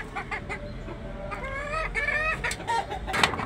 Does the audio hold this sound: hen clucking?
yes